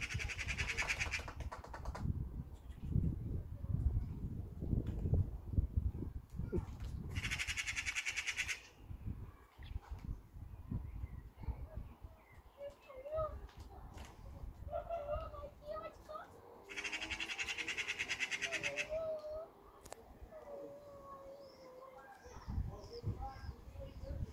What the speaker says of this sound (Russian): Смех сороки.